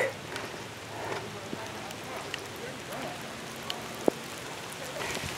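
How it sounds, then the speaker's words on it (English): Steady rain falls outdoors with a soft continuous hiss and occasional drip ticks and taps, heard close on a walk. "And it's raining"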